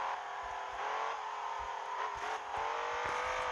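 A modified BMW M5 in the Assoluto Racing video game accelerates through first gear with wheelspin, its engine note climbing steadily and loudly with brief dips, and no talking.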